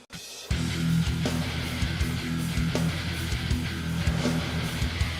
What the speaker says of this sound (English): And these are what the snares sound like.